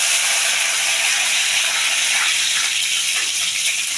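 Curry leaves with cinnamon, cloves and a piece of stone flower hitting hot oil in a pan, giving a loud, continuous close sizzle and hiss that holds steady throughout.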